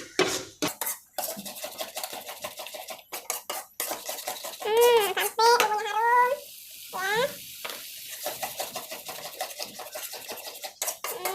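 A metal utensil clanks and scrapes against a pan while ingredients fry in a little oil until fragrant and browned, for homemade tekwan fish soup. Rapid irregular clinks run throughout, with a brief wavering high-pitched whine in the middle.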